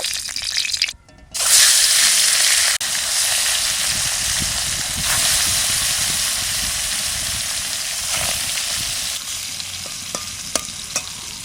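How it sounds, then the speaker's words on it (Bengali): Fish seasoned with salt and turmeric frying in hot oil in a village kitchen, a loud, steady hiss and sizzle that carries on nearly without a break after a brief gap near the start. "মাছ ভাজবো, তেল দিলাম।"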